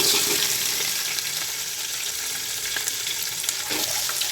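Eight large onions sizzle and fry for a mild mutton ghee biryani, with a steady, close, bright crackle and a few stirring clinks, no one talking.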